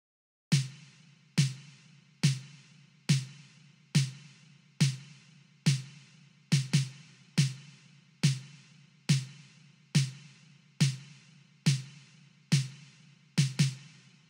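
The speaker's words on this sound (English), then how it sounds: "For the snare, I set it to hit on every second and fourth beat" A compressed synthwave snare drum cracks on the second and fourth beats, sharp loud hits with decaying tails, a few quick doubled hits adding variation at the ends of bars, heard alone.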